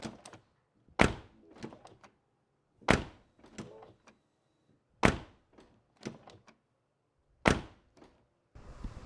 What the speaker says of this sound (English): see if we can discern any difference in how the door sounds when it closes